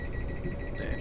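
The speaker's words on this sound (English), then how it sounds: "the delayed beeping sound." Warning beeps from the train doors closing on a Class 444 unit in Train Simulator 2014 repeat in a rapid, even rhythm over a dense, loud cab hum.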